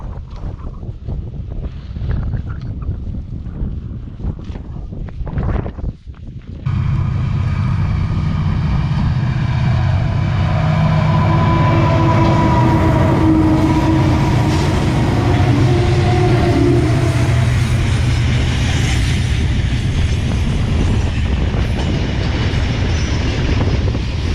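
Heavy freight train on the Zouerat to Nouadhibou line in the Mauritanian desert, rumbling and grinding loudly and steadily after a sudden onset, with wind buffeting the microphone and no talk.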